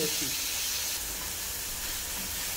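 Tomatoes cooking in a pan for Chettinad mutton bone curry, a steady close sizzle and hiss of steam, continuous and even throughout.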